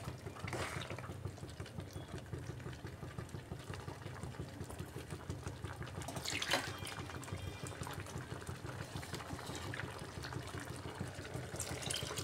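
Water pours into a pot of chickpea curry with chicken, a soft, continuous liquid gush and bubbling that sounds faint and steady, with a brief louder splash partway through.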